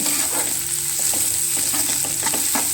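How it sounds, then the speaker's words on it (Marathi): Chilli, curry leaves and tomato frying in a pan for egg bhurji, a dense close sizzle with rhythmic stirring scrapes every half second or so, steady and fairly loud with no speech. "आता आपण त्याच्यामध्ये घालणार आहोत मिरची आणि कढीपत्ता आणि टॅमॅटो हे सुद्धा व्यवस्थित परतून घ्यायचं आहे"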